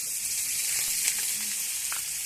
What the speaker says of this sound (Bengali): এবার কড়াইতে আমি গোবিন্দভোগ চালটা দিয়ে দিলাম।